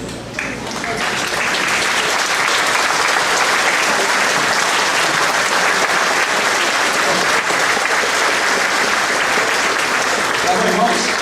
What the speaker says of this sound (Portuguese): vamos ficar de pé e vamos aplaudir